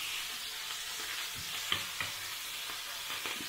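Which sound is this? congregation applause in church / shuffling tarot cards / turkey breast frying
turkey breast frying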